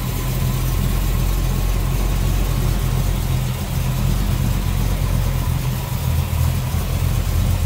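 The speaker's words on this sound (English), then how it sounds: "Sounds good, smooth running engine." A 1968 Dodge Polara convertible's 383 V8 with new headers idles steadily and close by, a loud, even low rumble holding throughout with no talk.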